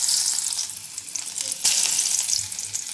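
Garlic sizzling and frying in a hot pan, a bright, crackling hiss that surges and fades as it is stirred, close and continuous with no voices over it.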